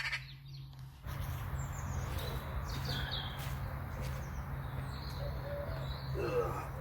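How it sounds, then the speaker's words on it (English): Birds sing at dawn around a campsite: scattered chirps and short whistled calls, moderately distant, over a low steady hum, starting after a brief quieter moment. "Listening to the birds now as the birds are waking up."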